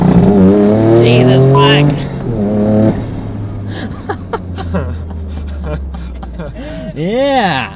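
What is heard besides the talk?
GR Corolla hatchback accelerating with tire squeal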